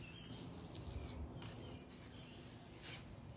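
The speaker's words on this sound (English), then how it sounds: "It helps when you don't stand downwind of the spray like I was just doing." Metallic silver spray paint hisses from an aerosol can onto metal L-beams, a faint continuous spray with a brief pause and a short mechanical rattle, no voices.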